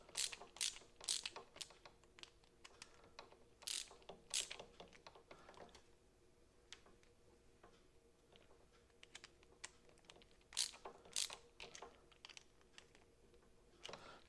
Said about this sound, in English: Tighten both sides equally, a little bit here, a little bit there.